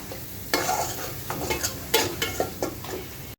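A spoon scrapes and stirs spices, including coriander powder, through sizzling oil in a pan, giving several distinct rhythmic strokes over a bright, steady frying hiss.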